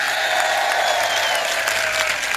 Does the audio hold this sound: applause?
yes